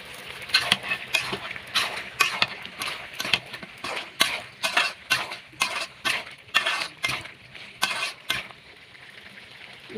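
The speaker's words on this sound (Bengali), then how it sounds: "মিষ্টি কুমড়াগুলো মাংসের সাথে ভালোভাবে কষে নেব।" Pumpkin and meat stirred in a cooking pot, a spoon scraping and clanking against the metal in a steady series of about a dozen strokes, close and clear, with a sizzling hiss beneath.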